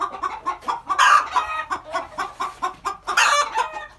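A hen inside a chicken coop clucks agitatedly and continuously at close range, with rapid repeated clucks and two louder squawking bursts, no speech over it.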